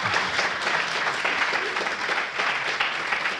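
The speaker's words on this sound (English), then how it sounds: "You can clap if you want." Applause from an audience after a tabla solo performance, a steady, dense wash of clapping from many hands heard close and continuous throughout.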